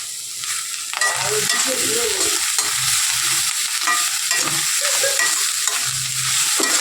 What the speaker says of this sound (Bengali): হলুদ একটু নেড়ে চেড়ে নামাবো